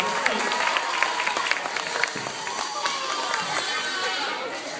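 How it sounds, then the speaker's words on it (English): Students and staff at an elementary school give a round of applause, a dense patter of many clapping hands with scattered cheers and chatter, fairly distant and steady. "All right, let's give our respect a big round of applause."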